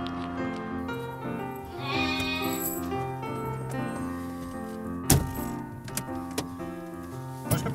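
A sheep bleats with a drawn-out, wavering call over a sustained tonal background, followed by several sharp knocks and rattles.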